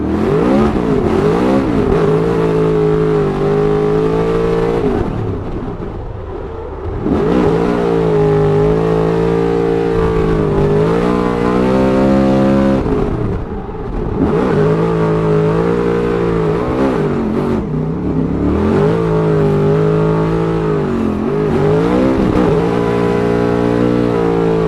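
Ford Mustang RTR drift car engine at a Formula Drift Atlanta run, loud and close, revving hard in long sustained pulls, dipping briefly between surges and climbing again.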